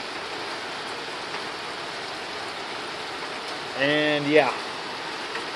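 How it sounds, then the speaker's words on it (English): Steady rain falls outdoors at a garden in late September, a constant even hiss that runs throughout, with someone speaking briefly near the end. "enjoy the rain."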